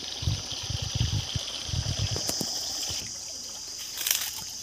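Water gushing from the outlet of a 900W BLDC solar borewell motor pump into three field channels near Hogenakkal, a steady splashing rush with bursts of low sloshing, close and fairly loud.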